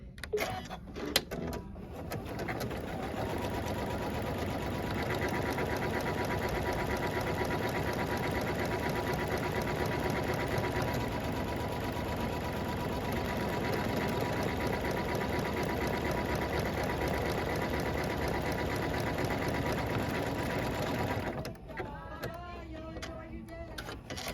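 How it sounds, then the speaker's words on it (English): A sewing machine automatically stitches out a buttonhole, running at a steady, even whirring hum for about twenty seconds before stopping with a few clicks and mechanical clunks. "I'm going to hit the start button on the machine and let it stitch out the buttonhole."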